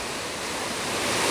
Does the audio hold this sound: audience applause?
no